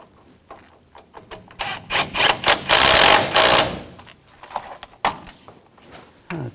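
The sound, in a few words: tightening an engine mount bolt on a GMC Sierra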